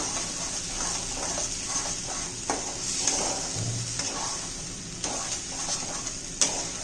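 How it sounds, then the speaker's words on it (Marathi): Soybean chunk curry being stirred and sautéed in a pan: a continuous bright sizzle and hiss with soft scraping stirs and occasional light taps of the spoon against the pan, close and steady. "व्यवस्थित चांगले हलवून घ्यायची एकजीव करायची"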